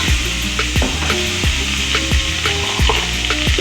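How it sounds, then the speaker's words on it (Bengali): Onions fry in oil with a little ginger in a pan, a loud continuous sizzle broken by repeated scraping strokes of a spatula stirring them. "পেঁয়াজটা ভালো করে ফ্রাই করে"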